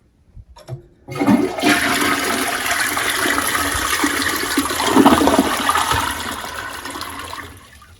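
A gravity flush of a household toilet whose tank has been set not to refill, as in a power outage: a loud, sustained rush and gurgle of water starting abruptly after a soft clunk and draining away over several seconds.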